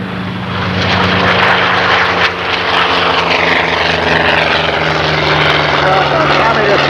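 A PB2 Harpoon warplane drones past loudly at a 1993 air show, its propeller engines roaring steadily and close the whole time, with a voice faintly under the engine noise.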